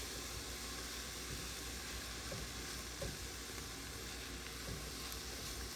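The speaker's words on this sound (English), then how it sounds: "then you want to saute it" Spinach sautés in a pan, giving a steady, close sizzle and frying hiss that runs unbroken, with a few faint stirring clicks and no talk.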